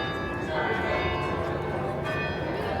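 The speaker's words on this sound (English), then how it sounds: "With the bell tower that keeps going off" Church bells ringing from a bell tower in medieval Bruges, a loud, sustained wash of bell tones over outdoor ambience.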